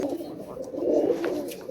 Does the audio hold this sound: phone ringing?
no